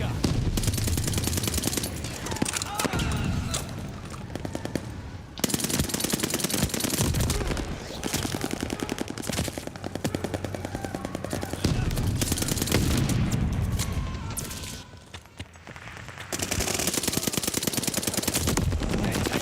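Dense, sustained bursts of automatic gunfire with booming blasts in a wartime video game fill the stretch, loud and nearly continuous, with brief pauses.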